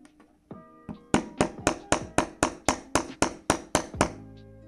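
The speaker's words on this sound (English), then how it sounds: "take your hammer and just hit away at it gently until it hits flush with the other side" A hammer gently taps a metal shaft into a 3D-printed plastic headstrap part, about twelve even, close, crisp knocks in a steady rhythm after a couple of softer preliminary taps, with no talking.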